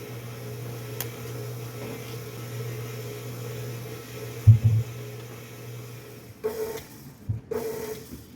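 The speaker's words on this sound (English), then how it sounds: "I don't know why my mixer has been doing that lately." An old electric mixer running through cheesecake mixture, a steady low mechanical hum with a faint whine that stops near the end, followed by a few clunks and knocks close by.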